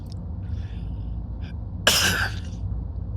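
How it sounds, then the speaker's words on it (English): A single short, harsh cough rises close to the microphone inside a train cab during a snowstorm run from New Jersey to New York, set against a steady low rumble. "I'm really sorry about my coughing, because I have this extremely annoying cough"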